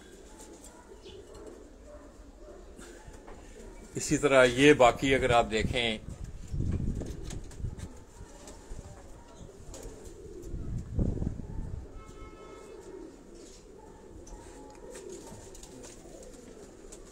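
Pigeons coo from breeding cages on a rooftop loft in Karachi, soft low calls rising intermittently under someone talking nearby.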